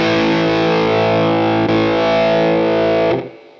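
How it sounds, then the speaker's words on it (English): Loud electric guitar through a Boss OD-1 overdrive on a Boss Katana amp sustains a held chord with thick overdrive, shifts tone partway through, then is cut off and fades into faint hum. "you've got the characteristic of that overdrive pedal, the OD1"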